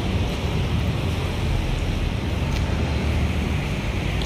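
Ocean waves wash onto the sandy shore of Dolomite Beach on Manila Bay, a steady, close rush of surf blended with wind noise that continues without a break.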